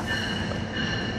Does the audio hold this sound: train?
yes